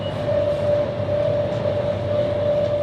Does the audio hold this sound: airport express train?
yes